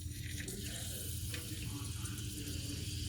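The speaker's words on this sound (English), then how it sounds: "There's a little bit of splatter, not much, but if there was more water on them, boy, they'd be splattering everywhere" Peppers fry in hot oil in a pan, giving a steady, close hiss and sizzle with light crackling spatter throughout.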